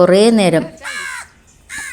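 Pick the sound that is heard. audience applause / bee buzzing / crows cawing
crows cawing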